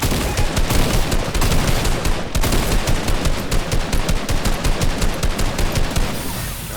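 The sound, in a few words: shotgun fire in a video game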